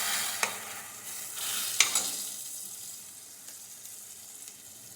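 Tomato paste stirred into golden fried onions in hot oil for an oyster mushroom gravy: a soft, steady sizzle with scraping spoon strokes and a couple of sharp clinks, close and fairly quiet, with no talking.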